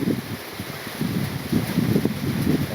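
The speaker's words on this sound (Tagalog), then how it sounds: "ang hangin" Steady wind on a mountain road from Abra to Ilocos Norte, Philippines, buffets the microphone with low rumbling gusts that swell and fade, no voices present.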